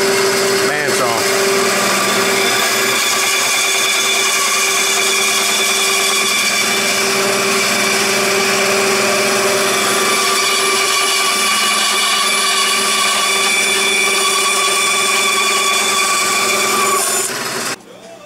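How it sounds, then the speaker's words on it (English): A power tool whines at a steady high pitch, loud and continuous for the whole stretch, cutting through an olive wood pen blank before winding down abruptly at the end. "I'm about to cut this piece of olive wood for the Virtuoso pen."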